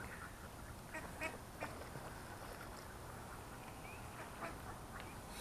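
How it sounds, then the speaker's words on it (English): Several ducks quacking and squabbling outdoors near water, short harsh calls scattered over a steady noisy background, fairly faint and distant. "Man, this duck's fighting?"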